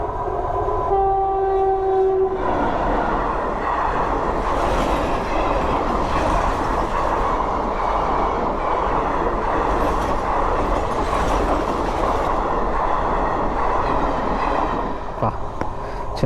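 A train rolls past close by on a road near Coimbatore, a loud steady rumble and rattle of wagons throughout, with a short horn blast near the start.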